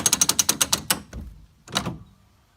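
A roller coaster's mechanical ratcheting restraint clicks rapidly through about nine sharp, evenly spaced ratchet steps. A short pause follows, then a single heavier clunk as it locks, loud and close with nothing else audible.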